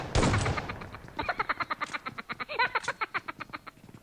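Rapid gunfire in a battle-royale shooter. An opening blast gives way to a long, fast, evenly spaced burst of shots that stays moderately loud with no talk over it.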